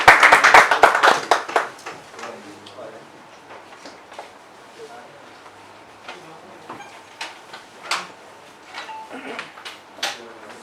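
An audience at a talk claps in a brief burst of applause that fades within a couple of seconds, followed by scattered isolated claps and someone speaking.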